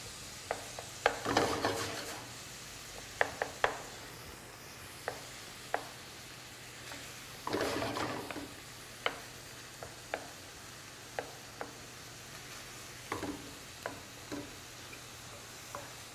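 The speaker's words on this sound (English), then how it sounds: "The garlic I like to add towards the end of the sauteing process just to sweat it a little bit." Garlic sweats in a pan near the end of a sauté, giving a faint, low sizzle broken by scattered sharp scrapes and taps of a utensil against the pan, with no talk.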